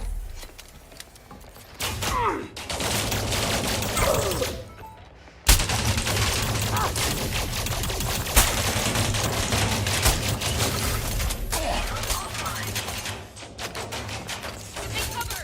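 Ship weapons in the space game Elite Dangerous fire in dense, loud bursts of booming shots and thuds, with brief pauses between volleys.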